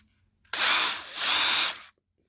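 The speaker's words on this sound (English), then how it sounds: "There's his drill." A cordless power drill, bought as a gift with a matching impact driver, whirs in two close bursts with a short dip between them, loud and alone with no talk.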